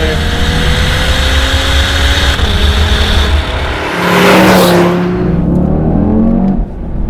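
A 2020 Audi TT RS accelerates hard, its engine note climbing steadily through the gears with a brief lift between shifts, loud and close from inside the cabin with no talk.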